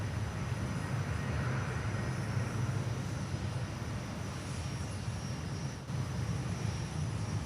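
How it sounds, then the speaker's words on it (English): A Velocity airliner departs Perth Airport bound for Adelaide, its engines a steady, loud broadband roar holding for the full stretch with no voices. "We've just got that Velocity flight to Adelaide. It's just departing."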